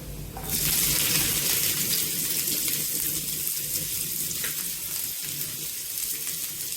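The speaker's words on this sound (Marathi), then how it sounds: "व्हेजेस तेलामध्ये छान प्रकारे फ्राय झालेले आहेत" Chopped vegetables drop into hot oil with browned garlic for Hakka noodles, setting off a sudden loud, steady sizzle that holds at a constant roar close by.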